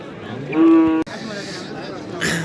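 A young calf gives one short, close moo over steady background noise at a livestock market.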